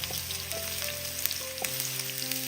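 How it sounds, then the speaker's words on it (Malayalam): Thinly sliced small onions fry in hot oil, making a close, steady sizzle and crackle with a few soft stirring scrapes, and no one speaks. "മൂന്ന് ചെറിയ ഉള്ളി കനം കുറഞ്ഞരിഞ്ഞതും കൂടി ഇട്ട് കൊടുത്ത് ഇതൊന്ന് ഇളക്കി കൊടുക്കാം"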